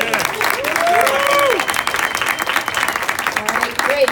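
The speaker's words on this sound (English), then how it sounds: "A big round of applause." An audience at a City Tech student event gives a round of applause, steady clapping filling the room, with a voice sounding partway through.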